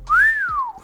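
A single short whistled note glides upward and then slowly falls away, clear and close.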